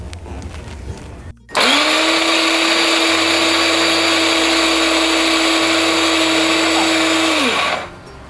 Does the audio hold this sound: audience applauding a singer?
no